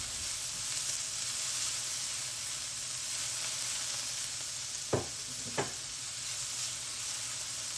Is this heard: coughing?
no